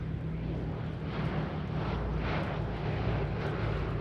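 A Boeing B-17 bomber flies past at an airshow, its engines making a loud, steady broadband roar that swells slightly midway, with no talk over it.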